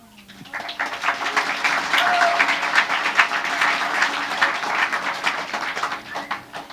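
A crowd at a battle of the bands claps loudly and densely for several seconds, swelling quickly then fading slightly, with scattered individual claps standing out near the end.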